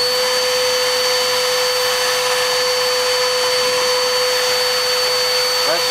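A Bissell Powerforce upright vacuum cleaner with no suction and a brush that will not spin runs with a steady, loud motor whine and broad airflow hiss, holding even throughout with no one talking.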